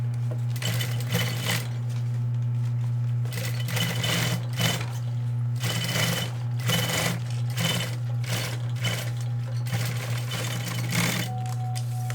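A sewing machine stitches bias binding onto a backpack, running in repeated rapid bursts of clattering needle strokes over a steady motor hum, close and clear with short pauses between runs.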